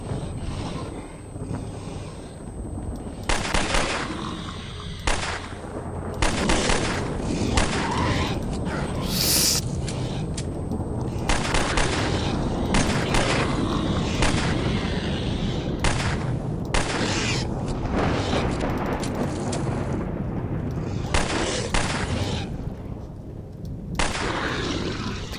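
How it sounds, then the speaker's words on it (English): Shotgun and handgun gunfire in the video game S.T.A.L.K.E.R.: Lost Alpha, with loud sharp shots spaced irregularly over a constant rumbling background. "I'm gonna use my shotgun and my handgun."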